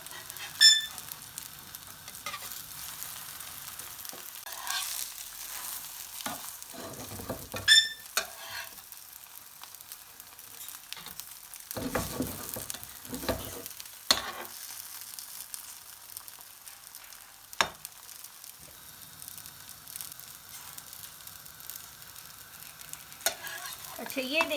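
A chicken crepe fries in a pan over medium-high heat, a steady soft sizzle running throughout with occasional clinks and scrapes of a utensil moving it, close and continuous with no talking.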